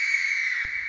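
A scream sample taken from a song, heard as a sustained, piercing high tone that holds steady for the whole moment, with a soft low thump near the end.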